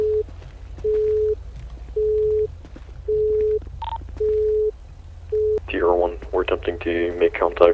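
In the GTA 5 video game a phone call rings out as a regular series of short, evenly spaced tone pulses, broken once by a brief higher beep, before a voice starts talking over the line.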